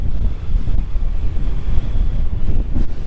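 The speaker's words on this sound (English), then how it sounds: "That wind doesn't let up any mind." Strong wind buffets the microphone on the summit of Place Fell in the Lake District, a loud, continuous roaring rush with gusty surges and no voices.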